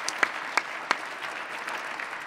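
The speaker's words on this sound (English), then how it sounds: "So let's give a round of applause for them." Brief, light applause from a lecture audience, a few sharp claps standing out over a soft spread of clapping, fairly faint and short.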